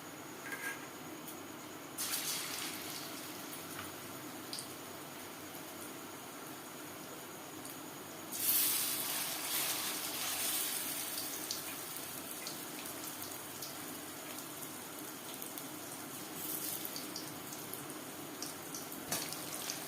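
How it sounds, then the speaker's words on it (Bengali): Paneer chops frying in hot refined oil, a steady broadband sizzle with louder surges as pieces go in, close and continuous throughout. "চপ ভাজবার জন্য বেশ খানিকটা রিফাইন্ড অয়েল গরম করে নিয়েছি এবার দিয়ে দেব পনির"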